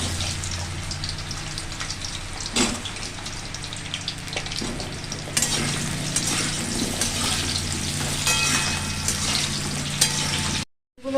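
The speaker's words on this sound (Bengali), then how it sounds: "তেল চলে এসছে, আলুগুলো আগে ভেজে নিই।" Potato pieces frying in hot oil in a Bengali home kitchen, a dense steady sizzle and crackle with occasional stirring scrapes and bursts, close and loud, running alone until an abrupt stop at the end.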